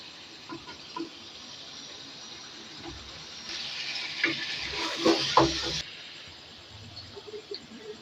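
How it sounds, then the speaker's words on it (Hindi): Chicken sizzles and fries in masala with steady crackling and occasional stirring scrapes, a brief louder burst of hiss partway through, no talking. "चिकन को 2 से 3 मिनट के लिए मसाले में अच्छी तरह फ्राई कर लेंगे, भून लेंगे अच्छी तरह से।"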